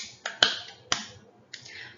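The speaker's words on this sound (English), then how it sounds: "I can clap my hands." Four sharp hand claps ring out one at a time with short gaps between them during a nursery circle-time song, each a crisp, close, bright smack.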